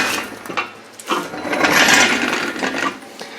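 A small block Chevy engine, rebuilt for demolition derby use, is turned over by hand, producing a run of close mechanical whirring and rattling clicks that swell and fade as it rotates.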